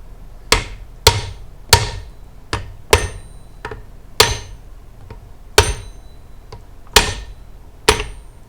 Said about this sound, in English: I don't want to beat on that bearing too much.